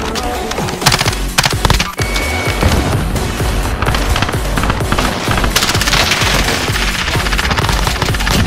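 Dense, continuous automatic gunfire from a Call of Duty Warzone match, with rapid bursts, booms and layered shots filling the whole stretch at high volume.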